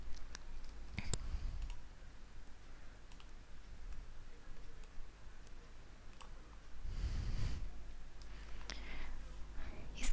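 Computer mouse clicks while a table is drawn in PowerPoint: sparse, sharp, close clicks scattered across a quiet room, with a soft rustle of movement in places and no speech.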